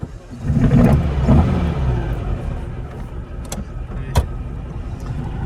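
A 1961 Volkswagen Beetle pulls away nearby with a loud, low engine rumble. The rumble swells, then settles into a steadier drone with a few sharp clicks and knocks.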